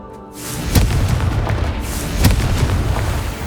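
A Confringo spell explosion in Hogwarts Legacy, heard as deep booming blasts with a sharp crack near the start and another midway, over a rumbling sustained roar.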